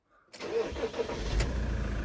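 An IVECO Daily 60.170 truck's diesel engine cranks and fires after a moment of near silence, catching quickly and settling into a steady idle close by.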